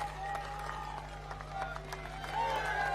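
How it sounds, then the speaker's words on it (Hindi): Crowd at a BJP political rally applauding with steady scattered clapping, a steady hum beneath it and a voice briefly audible over the applause. "पूरी तरह अपने स्थान पर कारीलाल जी के ताली बजाइए"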